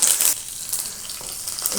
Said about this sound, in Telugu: ఇప్పుడు పోపు దినుసులు వేసుకొని